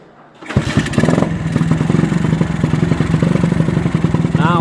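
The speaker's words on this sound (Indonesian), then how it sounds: "Sekarang tinggal hidupkan." A Honda Grand Supra GL 125 motorcycle engine cranks and catches after a short quiet moment, then settles into a steady, loud, rapid idle chug close by.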